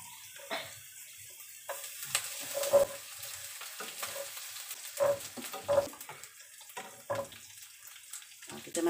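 Anchovies and garlic frying in a wok with a Malaysian home cook stirring, a steady soft sizzle broken by intermittent scraping clinks of the spatula against the pan.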